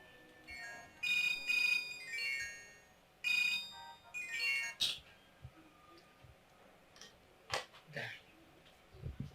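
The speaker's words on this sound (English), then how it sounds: "Your phone has been ringing non-stop and you're not picking up" A mobile phone ringtone plays in two bursts of bright, repeating melodic tones, with quieter voices and scattered household sounds following after the ringing stops.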